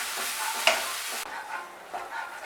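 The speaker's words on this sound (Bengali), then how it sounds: "দিয়ে আমি পোস্তটাকে এখন ভালো করে একটু কষিয়ে নেব।" Poppy seed paste (posto), loosened with a splash of water, is sautéed and stirred in a pan, producing a close, continuous hissing sizzle with a brief utensil clink; no voices.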